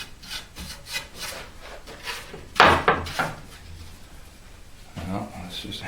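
A brush sweeps sanding dust off the sanded inside rim and kerfing of a wooden ES-335 style guitar body in a workshop, giving several short scrubbing strokes close up, while a person talks.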